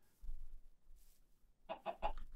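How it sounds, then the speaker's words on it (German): Bird in Minecraft: three quick clucking calls close together, chicken-like, heard near and fairly faint after a quiet stretch with low rumble. "Da ist ein Vogel"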